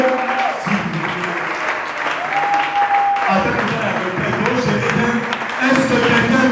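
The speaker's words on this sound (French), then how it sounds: "Est-ce que nous pouvons acclamer très fort pour le Seigneur?" A church congregation applauds loudly for the Lord, sustained clapping filling the whole stretch while voices carry over it.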